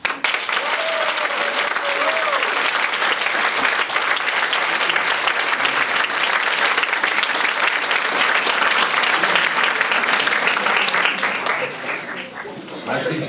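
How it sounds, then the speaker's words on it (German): Sustained, loud applause from a talent-show audience in Maria Anzbach, a dense even wash of clapping that tapers slightly near the end, with no talk over it. "alle Achtung und großen Applaus für euch."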